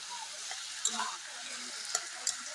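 Vegetables sizzle and fry in a pan for a taro curry, a steady soft hiss with a few light clinks of stirring against the pan, fairly quiet.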